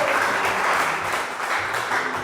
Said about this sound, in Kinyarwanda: ni mu mukomera amashyi n'umwami